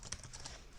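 Typing on a new computer keyboard, a steady run of quick light key clicks, close by and fairly quiet over a soft background hiss.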